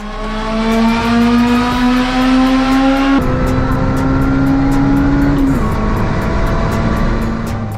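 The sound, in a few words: supercharged car engine revving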